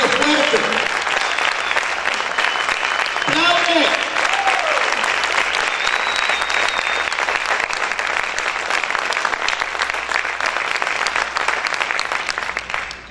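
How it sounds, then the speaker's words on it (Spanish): A church congregation bursts into loud, sustained applause that fills the room and runs unbroken, with a few voices calling out near the start. "Ese aplauso es para el Señor, déselo fuerte."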